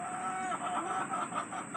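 Chickens clucking on a homestead in Cobb County, a steady, close chorus of soft clucks and warbling calls running continuously through the short stretch.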